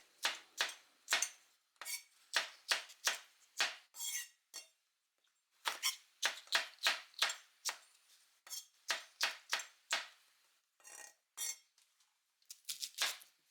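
A knife slices a carrot into thin diagonal pieces, a steady run of crisp, close cuts against a cutting board that come in quick clusters with short pauses, with no talking.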